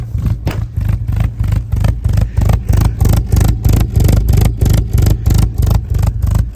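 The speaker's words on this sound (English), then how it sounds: "P-shooter exhaust." A stone-cold 1961 Morris Mini-Minor 850 engine on choke runs close by through a pea-shooter exhaust with a loud, lumpy, pulsing note, throbbing rhythmically and steadily throughout with a rattly edge.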